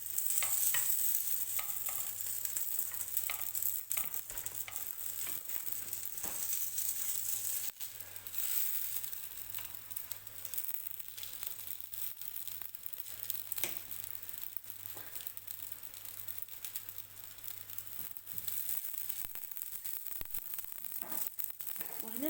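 Filled bread frying in a pan, giving a continuous soft sizzle with scattered crackles and occasional stirring clicks, steady and fairly quiet throughout.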